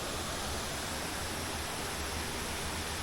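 Steady broadband rush of water pouring over a spillway above a fishing spot, continuous and fairly loud with no break, no voices over it.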